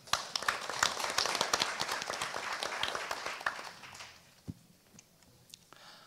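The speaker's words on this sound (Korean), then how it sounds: "한준 교수님을 큰 박수로 맞이하겠습니다." A forum audience applauds to welcome a professor taking the stage, dense clapping that thins out after about four seconds into a few last isolated claps.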